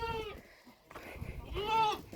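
Two clear goat bleats, one at the start and another after a short pause, close by and fairly loud.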